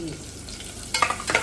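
Onion frying in a pan while being stirred, as the base for paneer dum biryani: a soft, steady sizzle, then a few louder scraping stirs close by near the end.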